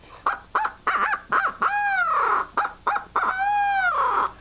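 A turkey hunter blows a turkey-hunting call to imitate a barred owl, giving a series of short hooting notes and then two longer rolling, falling calls. The notes are loud and close, with no talking.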